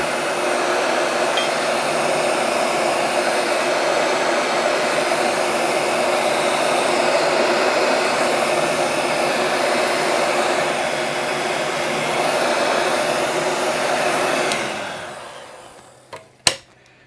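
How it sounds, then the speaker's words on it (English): A heat gun blows with a steady, loud airy roar for about fourteen seconds, then cuts off, leaving a few light clinks and taps close by. "Heat guns work best when they're plugged in."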